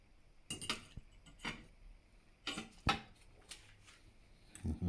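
A spoon scoops chilli cheese mash from a dish, giving several quiet clinks and scrapes of metal on crockery spaced about a second apart, close but faint.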